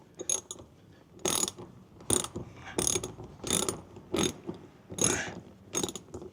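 A ratchet wrench loosening a very tight screw during a mud guard install on a Tesla Model Y Performance, about nine close bursts of rapid clicking in a steady back-and-forth rhythm, with quiet pauses between strokes.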